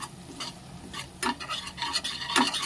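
A spoon scrapes and stirs through kaju gathiya curry as turmeric and spices are mixed in, giving soft irregular strokes close by, with a light sizzle underneath.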